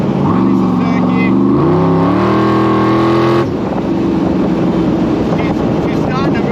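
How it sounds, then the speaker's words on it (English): An 800hp 427SC Cobra accelerating hard in third gear on a warm day, its loud engine note climbing steadily in pitch close by, then dropping abruptly into a rougher, lower roar partway through. "She's starting to move pretty rapidly, and it's certainly struggling for traction"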